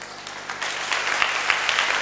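A congregation at a Hindi prayer meeting claps in a brief, scattered patter of hands. A few sharper claps stand out over a soft room background.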